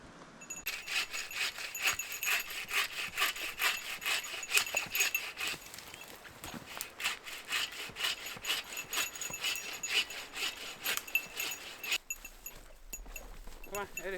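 A dead tree cut down with a hand saw at a freezing oceanside wild camp, rapid rasping back-and-forth strokes repeating steadily for about twelve seconds close by, then stopping.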